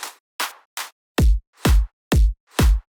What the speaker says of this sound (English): let's add claps